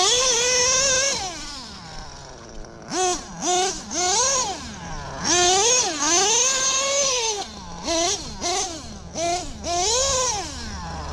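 The motor of a modded .32 RC car whines up and down as the throttle is blipped repeatedly. The pitch rises and falls in quick, close sweeps, with a sustained high whine at the start.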